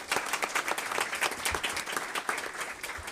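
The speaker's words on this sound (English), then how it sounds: "Would y'all give her a round of applause?" An audience at a school district board meeting applauds, a steady patter of many hands clapping at moderate volume, with no talk over it.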